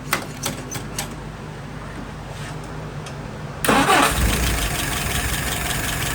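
A WO 539S carburetor engine goes through a few short clicks and cranking noises, then catches and fires up abruptly into a loud, steady, close-range idle, with no talking.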